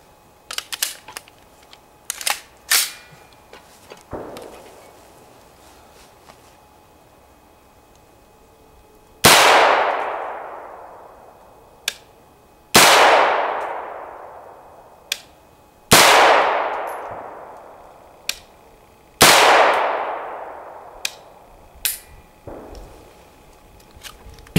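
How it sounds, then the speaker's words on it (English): A 7-inch M16 conversion rifle chambered in 7.62x25mm fires four loud, sharp shots at a steel target, spaced a few seconds apart, each with a lingering ringing decay, after several earlier small clicks and handling sounds. "We'll put 5 shots in, and we'll see if it looks like the previous 5 shots that we just put in the other one."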